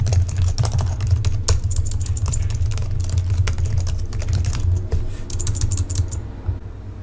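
Billing and credit card details typed on a computer keyboard, a close, fast, uneven patter of key clicks continuing for several seconds with no voices.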